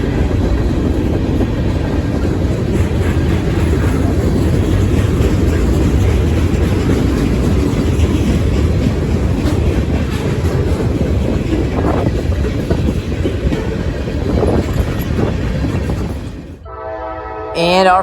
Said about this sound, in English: here is the next train that I got on video, which would be CSX Q367, a daily mixed manifest train